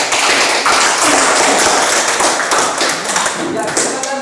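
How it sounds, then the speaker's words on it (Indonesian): A classroom group applauds a student group as it returns to its seats, with dense, loud, continuous clapping from many hands held close and steady throughout, mixed with a few thumps. "Berikan aplaus."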